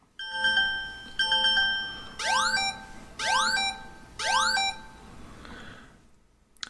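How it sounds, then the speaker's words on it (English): A phone emergency alarm plays two short steady beep bursts, then three loud rising, swooping chirp tones in an even rhythm, alone in a quiet room. "there is a sound, an alarm sound that will be played, and this is an example of what the sound is going to sound like"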